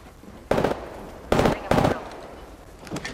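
Gunfire in an Apex Legends match, heard as three loud, sharp bursts spaced about a second apart, followed by fainter shots, with a voice speaking between them.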